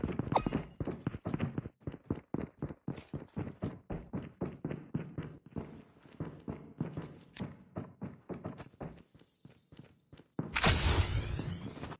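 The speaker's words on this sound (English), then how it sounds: "I heard footsteps and this time she was alone." Enemy footsteps in Call of Duty Mobile, a quick run of sharp thudding steps on a hard surface, fairly close and loud, followed by a brief burst of other game noise near the end.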